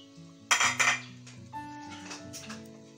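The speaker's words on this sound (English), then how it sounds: "So I'll add my pepper soup spice to it and give it a gentle stir." Pepper soup spice is added to a pot of melon pepper soup and stirred, with close metallic clinks and scrapes of a utensil against the pot, two sharp knocks followed by lighter stirring taps.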